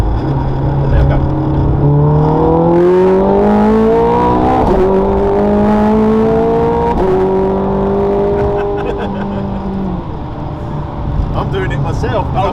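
A sports car on a road-racing drive accelerates hard in racing mode, its engine note climbing through several gears in rising, loud sweeps with brief dips at each shift, heard from inside the car.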